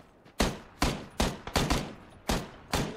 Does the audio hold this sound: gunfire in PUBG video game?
yes